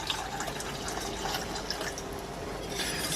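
Liquid poured steadily into a whisked sauce for a dairy-free cauliflower cheese, a continuous close splashing trickle with no talking.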